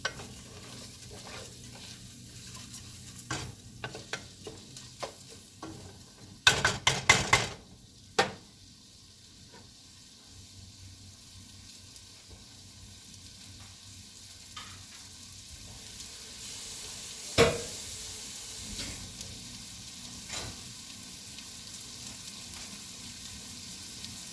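Pre-washed rice browns in a pan, stirred with a faint sizzle and soft, intermittent scraping and clinking, including a brief cluster of sharper clatters, all fairly quiet and close.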